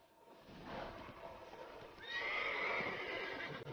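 Horse neighing and whinnying in The Witcher III, with a brighter whinny rising midway over a continuous game soundscape; loud and close, no speech.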